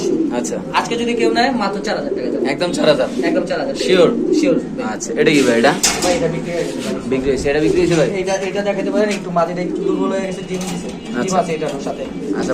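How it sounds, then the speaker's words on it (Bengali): Lahori pigeons cooing with soft, throaty bubbling calls heard under continuous loud nearby conversation between men. "এখানে আছে দুই পিস কবুতর"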